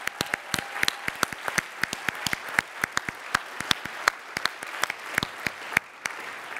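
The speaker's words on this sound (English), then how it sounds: "So just one final round of applause for Code America's founder, Jen Palka." Sparse applause from a small conference audience, irregular individual claps spread across several seconds with no talking.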